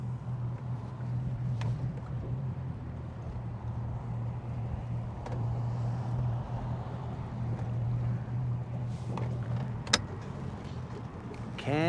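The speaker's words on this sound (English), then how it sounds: "this guy has a boat" A boat's engine hums steadily on Lake Guntersville, a low droning tone heard close by with a few faint clicks and knocks over it.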